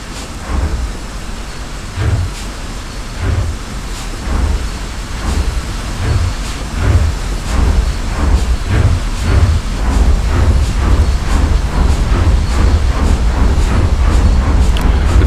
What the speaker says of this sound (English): So now we couple and push the train.